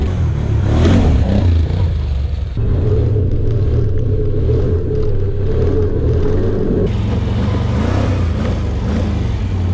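A 2021 Can-Am Outlander 850 XT V-twin ATV engine drones and revs steadily on a test ride, loud and close, its rumbling pitch shifting as the throttle changes.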